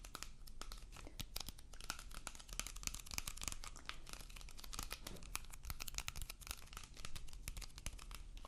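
A Harry Potter deck of cards is handled up close, with rapid crisp crinkles and snaps of card stock and wrapper in a busy, irregular stream, quiet and intimate with no talking.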